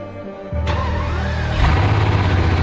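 A car engine that still misfires now and then is started: a short stretch of cranking catches into a steady running note that steps up louder and settles into a continuous idle.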